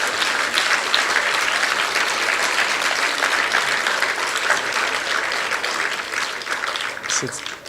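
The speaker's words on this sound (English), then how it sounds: "please, round of applause" Dense audience applause at a Metta convention closing ceremony fills the whole stretch, steady and loud, with a few voices and a faint murmur near the end.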